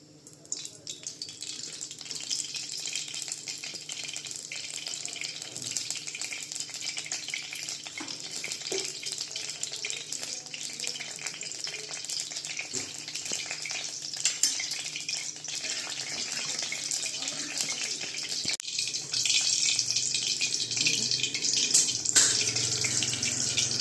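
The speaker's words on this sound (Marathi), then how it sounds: "तेल टाकले मोहरी टाकून जिरं एक मिरची लाल मेथी टाकली" Oil with mustard seeds, cumin, red chilli and fenugreek sizzles in a hot pan for a drumstick-leaf dal, a steady hiss running throughout with a few soft clinks, growing a bit louder toward the end.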